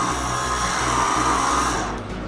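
USB electric coffee grinder whirring through coffee beans, a loud steady motor drone with gritty grinding texture that winds down and stops automatically near the end.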